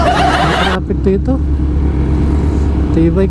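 Cars and motorcycles pass along a busy street, engines rumbling nearby with a steady traffic drone and occasional revving, while someone talks close by.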